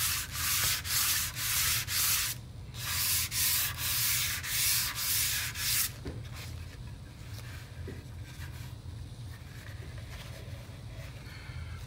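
Hand sanding a Warmoth guitar body with 320 grit paper, close rhythmic rasping strokes for about six seconds, then quieter faint rubbing.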